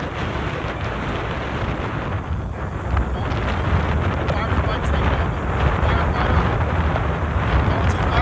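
Strong wind buffets the microphone in a steady, loud roar with gusting low rumble throughout, rising slightly after the first few seconds.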